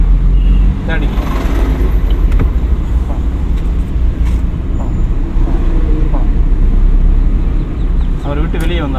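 A car drives in third gear during a driving lesson, a steady engine drone and road noise running throughout at close range, with an instructor talking over it.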